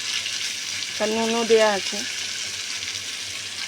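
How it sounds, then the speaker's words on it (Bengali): Potatoes and tomato frying in a pan give a steady hissing sizzle throughout, moderately loud, while someone speaks briefly over it. "দেখো আলু ভাজাগুলোর মধ্যে আমি টমেটোটাও দিয়ে দিচ্ছি"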